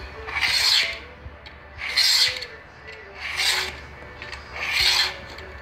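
A utility knife scores a formica or PVC sheet along a ruler, four separate raspy scraping strokes about a second each with short quiet gaps, close and fairly loud.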